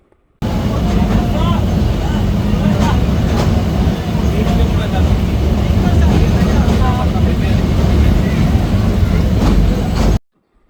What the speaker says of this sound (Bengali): এই ব্রিজের উপর দিয়ে ট্রেন যাওয়ার সময় কেমন শব্দ হয় তা আপনারা একটু শুনেন